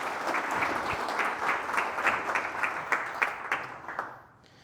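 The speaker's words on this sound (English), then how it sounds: "So I'll give a round of applause." Audience applause from a room of gym owners at a talk, a steady wash of many hands clapping that fills the clip before thinning and fading out near the end.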